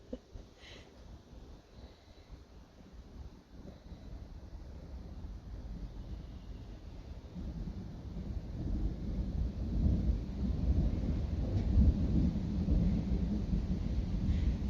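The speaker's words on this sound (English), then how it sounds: "I can really hear the thunder now" Thunder from a storm rumbles low and builds over several seconds into a louder, sustained roll, heard indoors with some wind noise and no speech.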